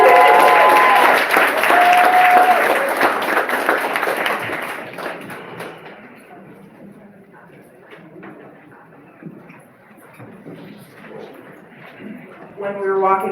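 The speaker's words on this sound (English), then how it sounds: "Give her a round of applause, y'all" Audience applause for a performer at a poetry open-mic night, a loud burst of clapping and cheers in the first few seconds that fades into murmuring crowd chatter and talk.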